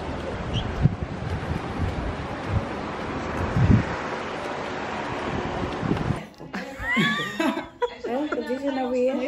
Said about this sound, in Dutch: want het begint een beetje te waaien